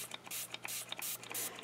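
Rapid bursts of 70% rubbing alcohol sprayed from a pump bottle onto air-brushed dried botanicals, about eight short hissing squirts in quick irregular succession, close and crisp over a faint steady hum.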